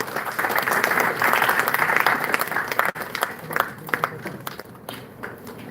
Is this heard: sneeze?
no